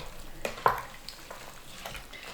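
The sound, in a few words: stirring soy curls in water in a pot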